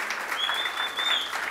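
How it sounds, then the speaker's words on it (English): Steady applause from an audience at a UNC political meeting in Chaguanas, dense clapping sustained throughout at moderate loudness, with a faint high tone running through the middle. "Give them a round of applause and we congratulate the star team."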